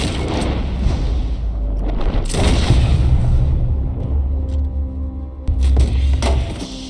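A gunshot rings out in a western video game set during an 1899 riverboat robbery, a loud boom over a dense, rumbling game ambience with further thuds later, no voices.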